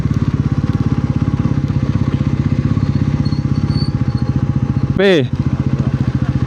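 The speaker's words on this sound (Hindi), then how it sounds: "यहाँ से तो जाना है, बाइक का आगे लगाते हैं थोड़ी, यहाँ लगाते हैं।" Motorcycle engine idling close by with a steady, rapid putter, a brief burst of speech cutting in near the end.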